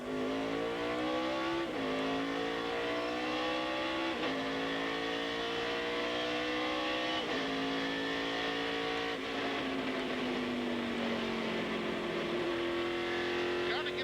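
NASCAR Xfinity stock car engines roar at a green flag start, a loud sustained revving drone that climbs in pitch and then drops back with each gear change, several times over, heard alongside an announcer's commentary.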